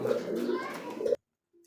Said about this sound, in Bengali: সুপ্রিয় দর্শক বন্ধুরা দেখতে পাচ্ছেন সিঙ্গেল একটা কবুতর লাহোরি কবুতর